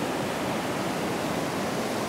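A waterfall in the mountains of Serra da Canastra roars as a steady, dense rush of water, loud and unbroken throughout.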